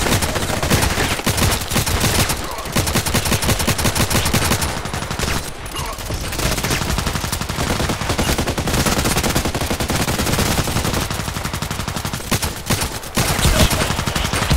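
Dense, rapid automatic gunfire from the online shooter Contract Wars, including RFB rifle play, rattles on almost without pause, loud and close, with only brief dips in the barrage.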